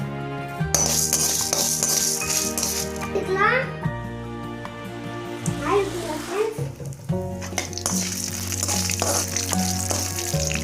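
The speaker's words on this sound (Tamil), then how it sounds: "4-5 பூண்டு, சின்ன சைஸ் இஞ்சி எல்லாத்தையும் சேர்த்து வறுத்துக்கலாம் ஃப்ரெண்ட்ஸ்" Garlic cloves and a small piece of ginger sizzle in a pan for a tomato and coconut chutney, a steady frying hiss broken by scraping stirs, while someone talks and background voices come and go.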